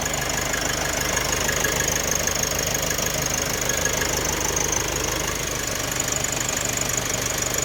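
A Nissan Navara EL manual pickup truck engine idles steadily and loudly up close after an engine wash, a continuous rumbling drone with a faint knocking texture and no voices.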